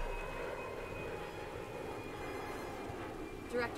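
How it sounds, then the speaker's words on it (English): A burning airliner roaring overhead in the game Bright Memory Infinite, a broad sustained engine rumble and rush at moderate level that holds steady for the whole stretch, with faint voices in the background. "Director Chen, an airliner engulfed in flames just passed overhead."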